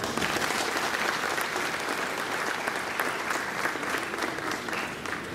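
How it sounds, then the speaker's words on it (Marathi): Sustained applause from an audience at an agricultural university eye donation awareness event, dense steady clapping filling the whole stretch at an even level with no speech over it. "जोरदार टाळ्या।"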